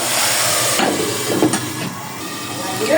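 Spice masala sizzling and frying in a pan for a pabda fish curry, a steady close hiss with faint stirring scrapes throughout.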